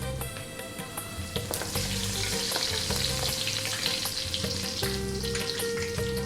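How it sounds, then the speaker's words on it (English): Curry leaves fry in hot oil in a pan with black mustard seeds and star anise, giving a loud, steady crackling sizzle with pops and spits that runs continuously throughout. "We're now going to go with my curry leaves."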